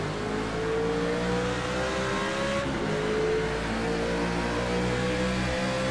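Car engine pulling hard at the start of a B Class run at Texas, a steady loud drone with rising engine tones and no talk.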